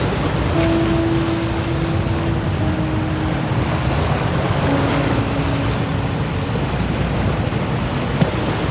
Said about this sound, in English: tiny waves kiss the boulevard wall